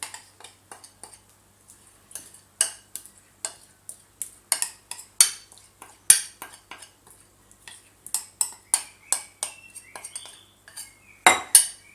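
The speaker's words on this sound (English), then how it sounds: "Give this a good mix." A spoon mixing a thick protein bar mixture in a bowl, producing a close, irregular series of sharp clinks and scrapes against the bowl with short quiet gaps between strokes.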